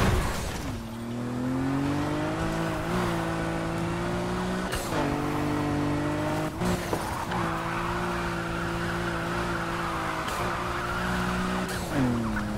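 Engine of a car in a Need for Speed Heat police chase, loud and steady with pitch rising and falling through repeated gear shifts, tire squeal and skidding mixed in, no talking.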